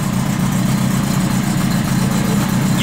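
A Honda CB900 cafe-style motorcycle engine idles while warming up, a close, steady, even burbling rumble with no revving and no voices.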